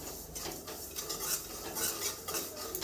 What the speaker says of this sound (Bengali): সুজিটা একটু হালকা করে ভেজে নিব